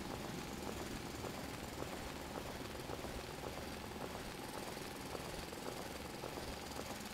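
A drill grinds steadily through stone in the video game Foundry, a constant droning mechanical roar with faint rhythmic pulses, unbroken throughout.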